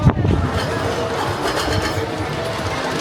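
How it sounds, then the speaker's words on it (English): Blue Flyer, a junior wooden roller coaster at Blackpool Pleasure Beach, rumbles past with a steady, loud roar and rattle after a sharp knock at the start, sustained for three seconds. "there goes Blue Flyer. Nice little junior coaster"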